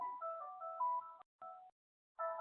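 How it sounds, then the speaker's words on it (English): A telephone rings faintly in the background, sounding as short electronic multi-tone bursts separated by brief silences, with no one speaking over it. "I've got a phone in the background that is no longer ringing"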